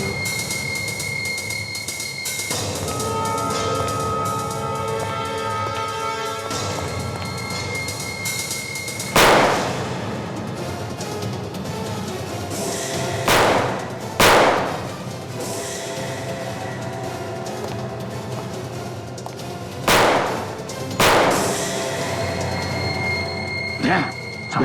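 Sharp, loud gunshots crack out in separate bursts, some as quick pairs, over a steady background hum during a shootout at a garage or outhouse storeroom.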